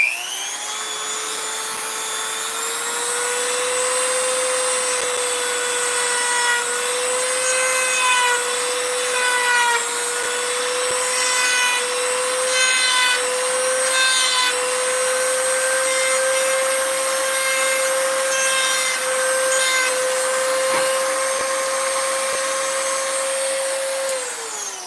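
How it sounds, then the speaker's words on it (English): A countersink bit cuts into the drilled holes of a turned wooden whistle, a steady whirring power-tool drone with a rising tonal pitch that runs continuously and close for the whole stretch, no talk over it. "they countersink these holes, probably because the drill like leaves them kind of nasty"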